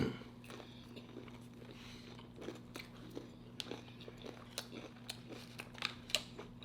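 Someone bites and chews a crunchy cauliflower pizza crust topped with balsamic fig sauce at a pizza restaurant, giving close, sharp, irregular crunches over a steady low hum, with no talking.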